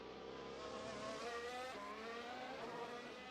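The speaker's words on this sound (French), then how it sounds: "la Aston Martin sur la ligne droite du 3e secteur" An Aston Martin Formula 1 race car drives along the third-sector straight at the Miami Grand Prix qualifying session, its engine a steady, dense high-pitched whine that holds evenly throughout at moderate distance.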